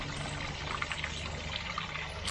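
Water pours steadily into an aquarium tank being topped up, a continuous close, even rush and trickle with no talk over it.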